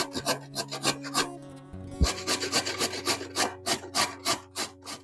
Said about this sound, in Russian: Натрем ее на мелкой терке.